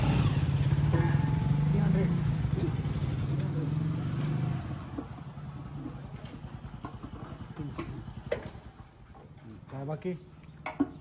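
A motorcycle engine idles at a petrol pump after its tank is filled, a low steady rumble that fades out halfway through, followed by quieter background clatter and someone talking.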